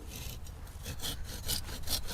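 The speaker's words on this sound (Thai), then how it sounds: "ตรงนี้ นี่ เป็นกาบนี้ครับเราก็เลื่อยเลยครับ" A hand saw cuts steadily back and forth through a coconut palm's sheath in short rasping strokes, close and loud, with no voices.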